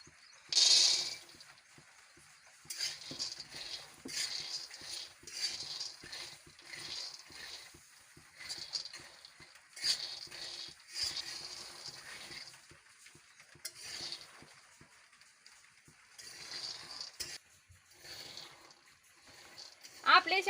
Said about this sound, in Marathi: कढई तापली तर मी आता शेंगदाणे भाजून घेते।